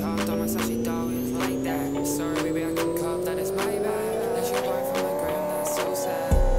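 Car engine in the Pixel Car Racer video game revving on a dyno, one long steady climb in pitch, loud and continuous, ending with an abrupt shift near the end.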